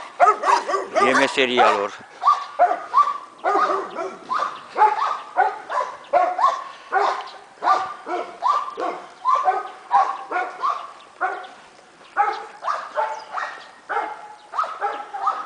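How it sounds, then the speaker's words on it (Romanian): Two dogs, one lighter and one darker coloured, bark and yip in rapid bursts nearby, with a person speaking briefly at the start. "Mă latră unul mai alb și unul mai negru."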